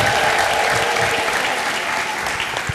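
A church congregation at a prophetic healing service applauds loudly and steadily, dense clapping with a crowd murmur and possible ululation filling the room throughout.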